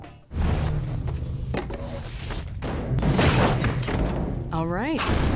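Half-Life 2 gravity gun in a video game: a dense electric buzz with heavy thumps and crashing impacts, ending in a rising, warbling whine near the end, loud and close.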